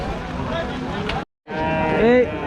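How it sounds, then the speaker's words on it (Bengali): A huge bull lows loudly and close at a Rajshahi cattle market, two drawn-out moos broken by a brief silent gap. "গরু তো যত নয় যেন একটা হাতি সুবিশাল গরু"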